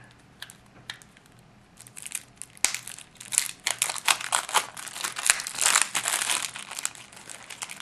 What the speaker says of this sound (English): There was something very nice about opening cellophane sealed stuff